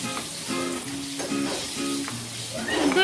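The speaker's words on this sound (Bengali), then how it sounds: "2 মিনিট নেড়ে চেড়ে লো ফ্লেমে একটু ভেজে নিচ্ছি।" Chicken pieces fry on a low flame for chow mein, a soft continuous sizzle with occasional stirring scrapes, while a voice talks over it and a few tonal clinks sound.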